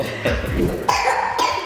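A few sharp coughs, close and fairly loud, in quick bursts with short gaps between them.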